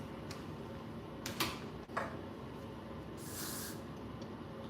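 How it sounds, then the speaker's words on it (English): Short hissing bursts of hair spray, a couple of quick puffs followed by a longer spray, faint against a quiet room. "Use that spray"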